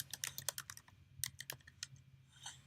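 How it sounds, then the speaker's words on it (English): Rapid, irregular key clicks from someone typing on a computer keyboard, close and crisp, in short uneven bursts with brief pauses and no talking. "So I'm going to type in myself."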